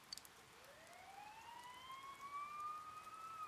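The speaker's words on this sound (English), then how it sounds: "You hear sirens nearby." Police sirens wail nearby in the video game Persona 4 Golden, a steady rising electronic tone that swells slightly louder over a soft rain-like hiss, with no talk.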